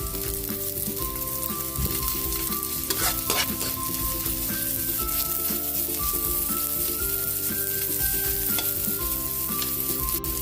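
Garlic and onion frying in a pan, a steady bright sizzle that runs the whole time, with stirring scrapes in the pan now and then and a faint tone held in the background.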